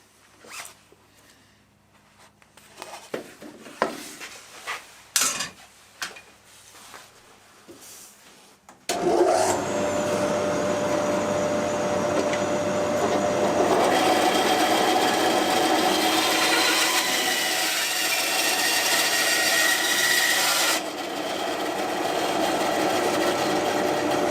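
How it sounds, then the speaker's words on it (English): A bandsaw cuts a wooden block for a knife handle with a loud, continuous rasping roar lasting about fifteen seconds, after several seconds of quieter clicks and workshop handling. "I'm just going to cut along that line with a bandsaw"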